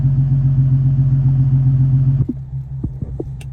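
Infiniti Q50 with a VQ engine and muffler delete drives past, a loud steady low exhaust drone for about two seconds before cutting off sharply, leaving quieter rumble and a few faint knocks.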